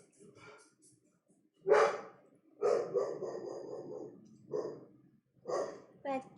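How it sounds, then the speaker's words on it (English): A dog barks at builders working nearby, giving several separate barks at irregular intervals, moderately loud and close, with speech around them. "that's the dog. She doesn't like the builders currently."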